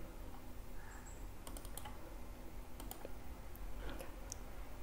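Commands typed on a computer keyboard into ModelSim: quiet, soft clicking keystrokes in short irregular clusters, faint and close, with no speech.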